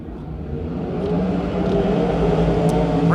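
410 sprint cars roar around the Stockton dirt track during an evening heat race, the engine noise building steadily into a loud, continuous, high-revving drone.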